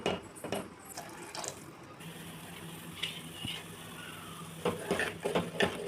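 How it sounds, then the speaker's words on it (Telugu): Water is poured into a cooking pot of vegetable soup on the stove. The pour makes a steady splashing stream with a few sharper clinks and splashes toward the end, close and fairly quiet. "ఇది ఉడికాక ఇలా వాటర్ పోసుకోవాలండి."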